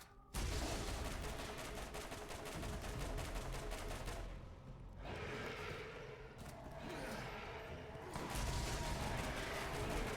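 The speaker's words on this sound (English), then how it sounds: "with a shotgun, it's one singular close range blast, and it gets them all" Shotgun fire in the Borderlands video game while fighting alpha skags, a dense, loud barrage of rapid game gunfire and blasts running continuously with brief dips in intensity.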